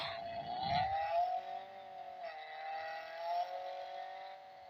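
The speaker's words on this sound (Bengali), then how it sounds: "তো গাইজ তোমরা শুধু একবার গাড়ির শব্দটা চেক করো।" A car engine in a mobile car video game holds a steady, sustained tone, rising briefly near the start and then idling evenly at a fairly faint level, with no one talking.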